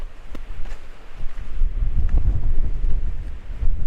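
Hard wind blasts across a Scottish hilltop above a loch, buffeting the microphone in low, gusty rumbles that rise and fall irregularly throughout.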